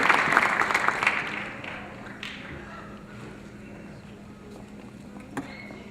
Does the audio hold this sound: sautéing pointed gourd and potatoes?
no